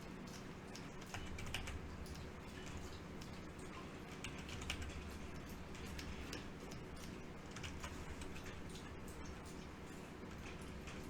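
Computer keyboard keys tapped while stepping through animation frames: faint, scattered clicks over a steady hum of room noise, quiet and continuous with no talking.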